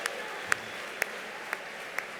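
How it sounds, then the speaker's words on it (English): Crowd applause at a charity gala evening after a live auction, a soft, distant patter of clapping punctuated by sharp regular beats roughly every half second. "Let's give the entire crowd a big round of applause for their participation here tonight."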